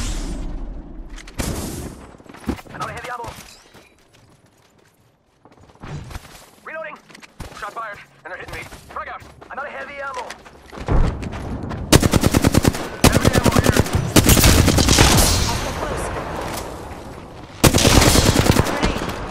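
Gunfire crackles through a shooter video game, starting with scattered shots and building into sustained automatic bursts, with brief voice chatter between them.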